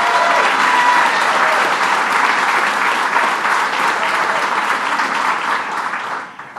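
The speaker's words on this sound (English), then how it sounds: "Let's give him a round of applause." Dense, steady applause fills a hall of attendees at a New York State regional economic award announcement, loud and continuous before fading away in the last moments.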